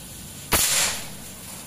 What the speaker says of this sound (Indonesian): Tembakan pertama.